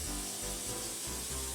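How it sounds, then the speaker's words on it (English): Cooking spray hissing from an aerosol can onto aluminum foil lining a sheet pan, a continuous breathy spray lasting about a second and a half with brief pauses, close and steady. "And some cooking spray"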